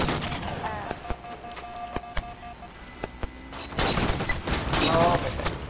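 Shotgun blasts and other gunfire in the video game Halo 4 sound in sharp, separate bursts over constant battle noise and engine-like hum, growing into louder chaotic fire near the end.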